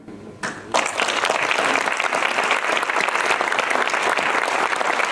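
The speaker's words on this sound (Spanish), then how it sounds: "le brindemos un aplauso muy caluroso a la memoria de nuestro maestro hoy" Audience at a posthumous memorial tribute breaking into warm applause after a short quiet moment, dense sustained clapping that fills the room.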